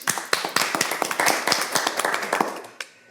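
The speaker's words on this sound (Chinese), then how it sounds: "土民肥，大家掌声欢迎佢。" Audience applause at a Hakka-language event, a burst of dense clapping close by that holds steady for about three seconds and then quickly dies away.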